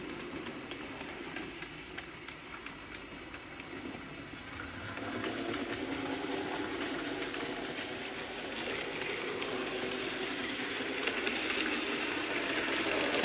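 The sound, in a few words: 00 gauge model Terrier locomotive running with chuff sound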